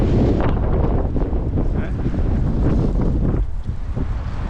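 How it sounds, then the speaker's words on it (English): Strong wind in Baku buffets the microphone in loud, continuous gusts, roaring and rumbling throughout with no clear voices. "it's a beautiful day. Very windy."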